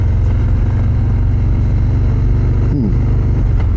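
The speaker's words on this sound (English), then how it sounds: "This car is only going 25 miles an hour." A car drives slowly at about 25 miles an hour, a steady loud low engine rumble and road drone running continuously throughout with no talk.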